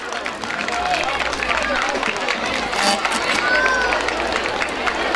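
Applause from an audience at a school night graduation ceremony, a dense continuous wash of clapping with crowd murmur running steadily through the whole stretch.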